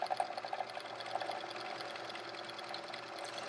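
A 1974 Sears Kenmore sewing machine runs at a steady clip, its needle ticking in a fast, even rhythm, close and fairly quiet with no speech.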